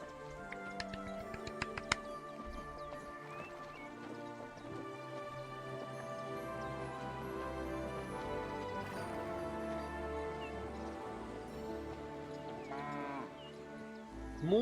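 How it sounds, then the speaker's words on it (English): A cow in Kingdom Come Deliverance 2 lets out long, low, drawn-out moos, loud and near, over a game soundscape with faint ticking and clopping in the background. "Moo to you as well, dear cow."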